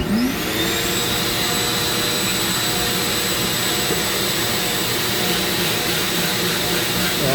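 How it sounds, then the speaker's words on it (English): A shop vac pulls dust from the air through a hose while Dremel-carving a wooden pumpkin, giving a loud, steady, unbroken roar with a high whine that holds constant from start to finish. "And then it goes through a hose to my shop vac. So it sucks it out of the air."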